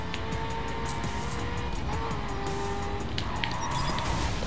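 Continuous engine roar and tire squeal from an Aston Martin drifting in The Crew, holding steady throughout with shifting tonal whines as the car slides.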